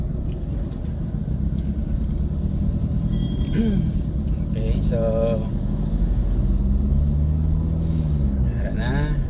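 Heavy road traffic in Iloilo City, with a steady low rumble of cars, trucks and motorcycles passing close by and someone talking over it.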